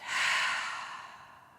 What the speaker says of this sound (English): taking one audible breath to clear our minds, to cleanse our bodies before we get started